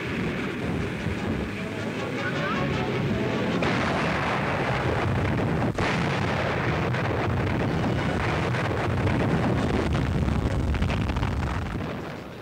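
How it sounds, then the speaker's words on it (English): Distant naval gun salvos from the German battleship Bismarck during the Atlantic chase, a continuous roar of heavy gunfire and rumble with buffeting wind, loud throughout with one sharp transient near the middle. "you see salvos from the Bismarck failing to hit one of our battleships"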